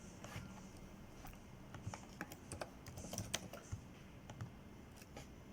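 Typing a search on a computer keyboard: a quick, irregular patter of soft key clicks, close and faint, with a denser burst in the middle.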